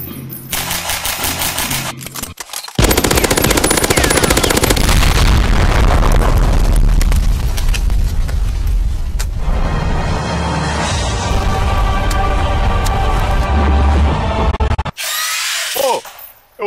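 Rapid automatic gunfire in Garry's Mod, a loud sustained burst of shots running for many seconds with a brief pause and a final flurry near the end, no talk over it.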